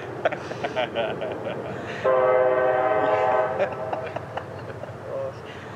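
A rally-train sound effect during a Cleveland sports talk show: a rolling train rumble under the talking, then a loud, sustained train horn blast lasting about a second and a half before fading back into the rumble.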